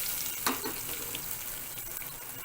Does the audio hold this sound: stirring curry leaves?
yes